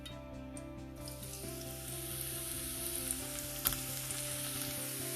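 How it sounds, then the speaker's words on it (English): Grated carrot sizzles in hot ghee in a pan, a steady crackling fry that grows slightly louder, with a couple of soft clinks of a utensil. "Fry this till the carrot loses its rawness"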